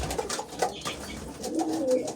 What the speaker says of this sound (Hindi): अभी ये कबूतर है